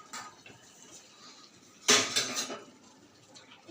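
Metal lid lifted off a cooking pot while making papaya chutney, a single clear clanking rattle near the middle, close and fairly loud, with quieter utensil clinks before and after.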